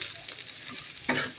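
Jackfruit seeds sizzle in hot oil for a mash, with scraping stirs, and a louder burst of frying near the end of the short stretch.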